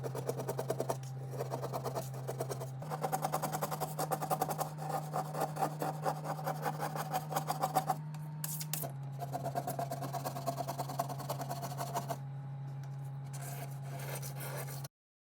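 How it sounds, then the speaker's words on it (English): A straight-edge razor blade scrapes baked-on grime off oven door glass in a steady run of close, rasping strokes, with a constant low hum underneath. "Now I will take a straight edge razor blade and scrape off the grime."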